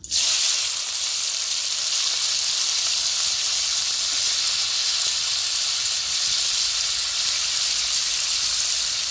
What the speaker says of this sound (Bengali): গরম হয়ে গেছে, আমি তেল দিয়ে দিচ্ছি। মাংসগুলোকে ভেজে নেব।